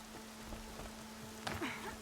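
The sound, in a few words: rain falling in the video game Horizon Zero Dawn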